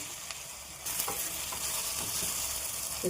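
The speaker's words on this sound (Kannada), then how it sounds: "ಈರುಳ್ಳಿ ಅರ್ಧ ಫ್ರೈ ಆದಮೇಲೆ 2 ಮೀಡಿಯಮ್ ಟೊಮೆಟೊ ಹಾಕ್ಕೊಂಡಿದ್ದೀನಿ." Half-fried onions and two medium tomatoes crackle in a pan, a soft sizzle that jumps to a louder, brighter hiss partway through, with light stirring clinks, close up and without any talking.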